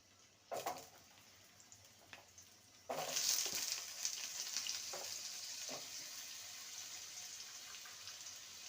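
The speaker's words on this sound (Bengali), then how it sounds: "আলুটাকে ভেজে নেব তারপর পেঁপেগুলোকে ভেজে নেব" Two medium potatoes fry in a pan with steady oil sizzle, quiet at first, then swelling into a continuous hiss after a sudden burst midway, with a few soft clinks of a spatula.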